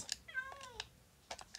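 A Minecraft cat gives a single short meow, set among quiet keyboard typing and mouse clicks from a game session.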